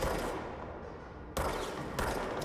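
Gunfire in the video game Control as obstacles are shot down: a steady dense barrage with two sharp louder bursts toward the end, no talking.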